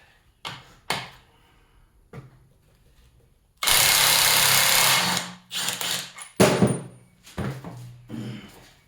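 An electric power tool used during a 1999 Ford Mustang Cobra engine teardown, with a sustained whirring burst of over a second among short mechanical clunks and taps, plus brief tool bursts later.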